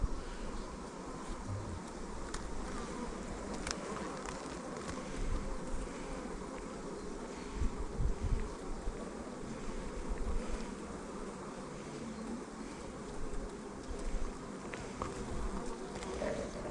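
Calm, light-coloured honey bees hum steadily and densely around an open hive during a farm inspection, a close, continuous drone with occasional louder passes near the microphone.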